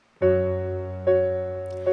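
Three sustained piano chords struck in slow succession, each ringing and fading before the next, full and close, with no voices.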